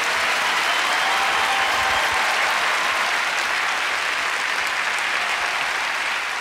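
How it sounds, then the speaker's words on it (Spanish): A theatre audience at a tribute show applauds in honor of Raúl Velasco, a thick, even wash of clapping from a large crowd that stays loud and unbroken throughout. "Un aplauso para don Raúl Velasco"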